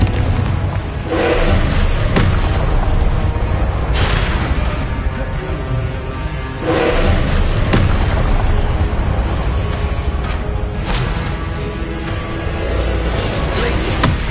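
Repeated Confringo explosion spells in Hogwarts Legacy, heavy booming blasts bursting at intervals over a dense, loud bed of game combat noise and rumble.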